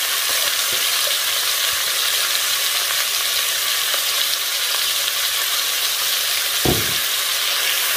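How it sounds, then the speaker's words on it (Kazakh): Carrots with garlic and tomato fry in a pan, giving a steady bright sizzle throughout with occasional scraping stirs and a brief knock near the end. "Сәбізіміз жұмсарғанша қуыратын боламыз."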